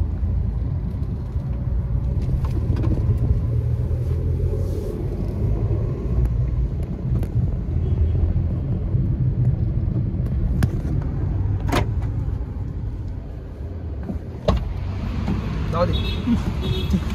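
A Wagon R car drives and turns at a road junction, its steady engine rumble and road noise running throughout with occasional passing-traffic sounds, while someone talks over it.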